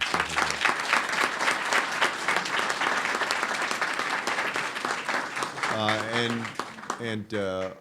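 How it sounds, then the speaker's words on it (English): Audience applause at a public announcement event on a smoke-free housing rule, steady dense clapping across the room, with a voice speaking over it near the end. "So let's give Mina a round of applause."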